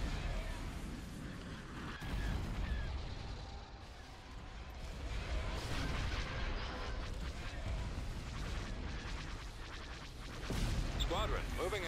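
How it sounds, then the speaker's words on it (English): Ion cannon firing in the Star Wars Empire at War space battle, heavy booming blasts rolling over a continuous din of combat noise, with voices speaking intermittently. "Ion cannon firing."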